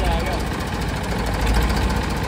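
A Ford 3600 tractor engine runs with a harrow attached, a steady low, rumbling drone close by without pause.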